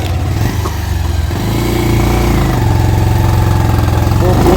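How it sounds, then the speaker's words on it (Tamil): A motorcycle engine droning steadily and loudly at close range while climbing hairpin bends on a hill road, with a continuous rumbling tone that rises slightly in pitch under wind buffeting. "அதனால் அப்படியே வண்டி ஓட்டிகிட்டு போவோம்"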